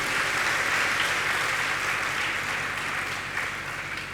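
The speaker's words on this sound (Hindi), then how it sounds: "ताली बजा लो अपने लिए।" Sustained applause from a seated audience at a Hindi religious discourse on vows and restraint, dense and steady throughout, easing slightly toward the end, with no talking over it.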